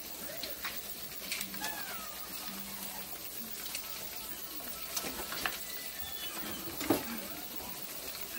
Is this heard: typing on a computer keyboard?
no